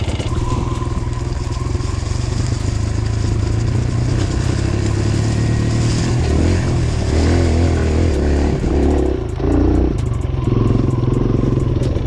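A 2022 Kawasaki KLX140 dirt bike ridden on a West Virginia trail, its small engine droning steadily up close with revs rising and dipping and some clatter from the terrain, no voices over it.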